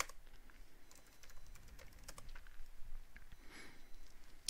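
Quiet computer keyboard typing a terminal command on Ubuntu, a run of soft irregular key clicks close by with small pauses and no talking.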